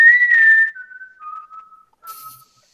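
A person whistles a sliding, wavering tune indoors during a class, loud at first and then softer, with a brief gap before a final short whistled note.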